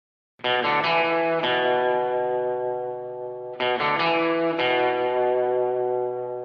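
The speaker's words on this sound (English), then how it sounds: "And a low guitar part" Low-register electric guitar part in a pop country arrangement, effected with chorus and slight distortion, playing two phrases of a few rapid chord strikes followed by long sustained, slowly decaying notes.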